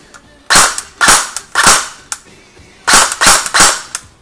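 An airsoft DMR rifle fires on full auto in short bursts, sharp cracking shots in quick groups of two and three with brief pauses between, loud and close, with no talking.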